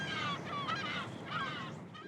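African penguins call at a breeding colony in South Africa, with harsh honking, braying cries that come in two bursts and sound fairly close over steady outdoor noise.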